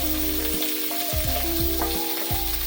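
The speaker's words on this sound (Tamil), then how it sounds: "நல்லா இப்போ வெங்காயம் நல்லா வதங்கணும்" Onions with curry leaves sauté in a pan while preparing beef kola urundai, making a loud, close, continuous sizzle with a few stirring scrapes over a steady background hum.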